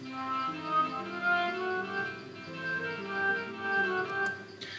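Notation software plays a synthetic, piano-like melody in a steady meter, with a rest on the first beat and an accent on the second, so some notes land off the main beat. There is no voice.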